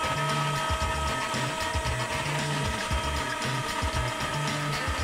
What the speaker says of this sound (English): Cutting through this basswood is like cutting through butter.